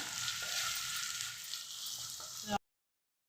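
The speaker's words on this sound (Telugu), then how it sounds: "బ్రౌన్ కలర్ వచ్చే వరకు వేయించుకోవాలి ఉల్లిగడ్డ" Crushed onions frying in oil in a pan, a steady bright sizzle that cuts off abruptly into silence near the end.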